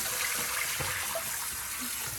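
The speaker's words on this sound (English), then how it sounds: "Turning on cold water" Cold water running steadily from a household tap, a broad continuous hiss and splash at close range, even in level for the whole short stretch with no speech.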